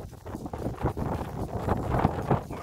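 Strong wind sweeps over open farm fields where solar-powered sprinklers are running, a gusty, rustling roar that rises and falls in the foreground, with no clear speech.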